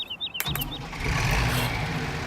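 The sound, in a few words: tractor engine starting in Farming Simulator 17 video game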